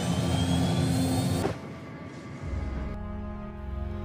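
A special airplane carrying escaping terrorists takes off, its loud jet engine roaring steadily before dropping to a lower, heavier drone as it pulls away.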